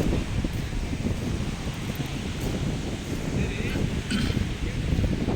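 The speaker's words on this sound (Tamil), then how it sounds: "இலங்கை கொடி காற்றுல பறக்குது" Strong wind buffets the microphone in a continuous rumbling roar, with faint flapping and rustling from a Sri Lankan flag on Katchatheevu island mixed in.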